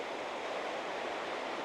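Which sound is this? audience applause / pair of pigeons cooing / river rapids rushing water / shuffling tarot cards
river rapids rushing water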